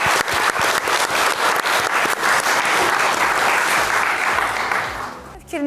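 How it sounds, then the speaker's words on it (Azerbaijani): Audience applause at a youth centre's live stage sketch about sea pirates, loud sustained clapping from a crowd with some sharp individual claps, fading near the end. "Bu alqış sizin"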